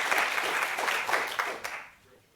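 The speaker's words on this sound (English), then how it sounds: "if you could give the panel a very warm round of applause" A conference audience applauds a panel on water and greenhouse gas goals, with steady clapping that holds for about two seconds before fading out at the end.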